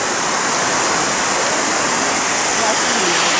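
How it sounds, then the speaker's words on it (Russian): Shaki waterfall in the mountains of Armenia roars as a dense, constant rush of falling water, loud and close, with no break in the sound. "Вот какой водопад."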